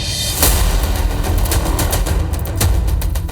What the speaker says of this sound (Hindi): फिर छतरपुर गोलियों की गूंज से दहल उठा